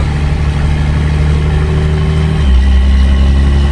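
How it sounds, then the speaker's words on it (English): Turbocharged 6.7 Cummins diesel swapped into a 2nd Gen Mega Cab truck, running in gear: a loud, steady, close-up low diesel rumble that steps up into a heavier, louder drone just past the midpoint, with no talking. "You hear the turbo."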